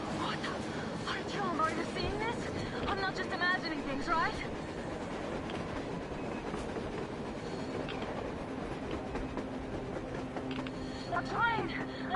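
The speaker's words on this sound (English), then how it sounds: "A damn train on the surface!" A train rolls along on the surface in the video game Metro Exodus with a steady rumbling clatter and faint squeals, heard under a blizzard and people talking through most of the stretch.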